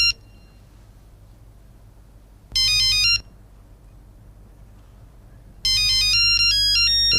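A famous mobile phone ringtone melody plays in two loud electronic bursts, one brief and one longer, over a low, steady background rumble.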